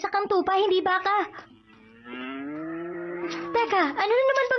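A cartoon sheep lets out a long, loud cow-like moo in a Tagalog-dubbed animated show, with character dialogue before and after it.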